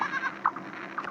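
Goat bleats from the Firework Simulator 3D video game, several short nasal cries in quick succession, fairly close and clear with no talking over them.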